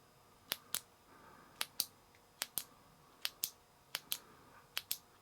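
A flashlight's tail click switch is pressed repeatedly, giving crisp, close double clicks in a steady rhythm over a quiet background, about eight sharp snaps in paired presses.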